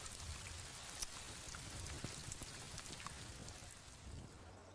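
Outdoor rain shower pouring down steadily in a garden, a faint continuous hiss with scattered drops and no talk.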